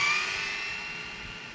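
Brushless-converted Traxxas 4-Tec 3.0 RC car with a C8 Corvette body at full throttle, giving a loud, steady high-pitched motor whine that slowly fades as it pulls away.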